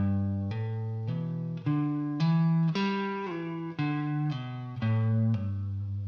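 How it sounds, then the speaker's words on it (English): An electric guitar plays a fretboard exercise of hammer-ons, pull-offs and slides, with a clean, effected tone of sustained notes moving smoothly from one pitch to the next. It is played close and loud with no talking. "So this is what I do when I want to practice my hammer-ons, pull-offs, and slides"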